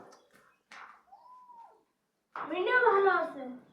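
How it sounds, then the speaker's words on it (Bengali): A pet cat named Tuni gives two distinct meows, a short drawn-out cry followed by a longer, fuller wail, with brief quiet gaps between them and faint household noise in the background. "এই হলো আমার বিলাই"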